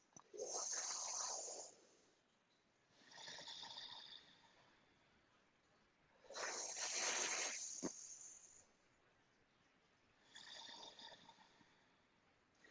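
Sheetali pranayama breathing: long hissing inhalations through the mouth, with the tongue rolled into a tube, alternate with softer exhales through the nose, four breaths in a slow steady rhythm, close and alone.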